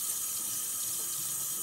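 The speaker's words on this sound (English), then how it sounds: "So now I'm going to get my water nice and hot" A kitchen faucet runs hot water in a steady, even hiss of flowing water, close and continuous with no talk.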